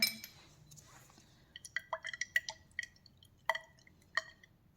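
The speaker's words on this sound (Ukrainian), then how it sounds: "Тепер вміст кожної пробірки інтенсивно струшуємо і залишаємо на 5 хвилин." Liquid emulsion sloshing and clinking inside a glass laboratory test tube as it is shaken hard, a quick run of faint, close drips and glassy taps with uneven rhythm, no voices over it.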